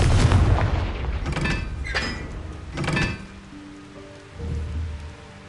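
A Confringo fire spell in the game Hogwarts Legacy bursts loudly at the start and rolls into a crackling rumble, with two further booming blasts trailing off into lower resonant tones.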